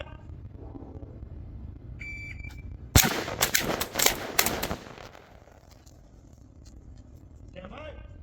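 A short beep sounds, then a burst of gunfire at the middle circles of a target, two rounds per circle, loud cracks in a quick cluster, followed by quieter background and a voice.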